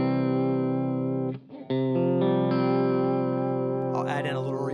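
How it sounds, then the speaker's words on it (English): An electric guitar played through an effects pedal set to vibrato gives sustained distorted notes with a wavering pitch, pausing briefly, then continuing with rising warbly bends toward the end. "That's the vibrato setting."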